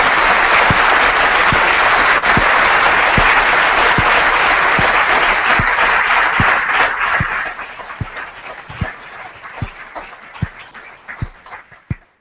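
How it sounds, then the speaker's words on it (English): A fans forum audience gives loud, dense applause to a panel of five guests, sustained for several seconds before thinning into scattered, individual claps that fade away. "a round of applause for these guys for coming along"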